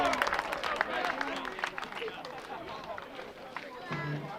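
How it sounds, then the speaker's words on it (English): A baseball crowd applauds a relieved pitcher at a Louisburg College home game, moderate clapping spread through the stands under an announcer's talk, fading and then swelling again at the end. "a wonderful round of applause from the Louisburg faithful here"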